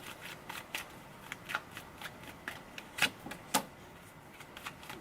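Tarot cards being shuffled and drawn for a reading, a series of soft, brief papery riffs and flicks with two sharper snaps near the middle, close and quiet with no talking.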